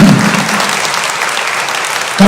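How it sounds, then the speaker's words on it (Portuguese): A church congregation applauds during a sermon, a loud, dense burst of clapping that fills the space for about two seconds before cutting off. "Um aplauso ao Senhor Jesus."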